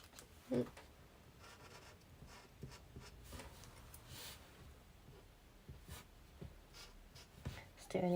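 Alcohol marker scratching and gliding across buckling paper, a quiet, steady rubbing texture with intermittent strokes and a few soft taps, close up with no talking.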